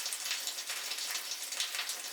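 Designed rain ambience of close drops pattering on surfaces, a dense, steady crackling hiss with fine individual taps, moderately loud and even throughout, with no voices.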